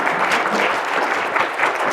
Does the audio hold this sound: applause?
yes